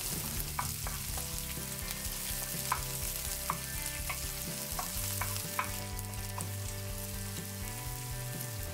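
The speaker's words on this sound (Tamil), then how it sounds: "இப்போ இந்த வெங்காயத்தை சேர்த்துட்டு 1 நிமிஷம் வதங்கினதுக்கப்புறமா நம்ம வெண்டைக்காய் சேர்க்கலாம்." Small onions frying in a pan of oil for a spicy okra stir-fry, a constant dense sizzle with regular clinks of a spoon stirring, close and alone.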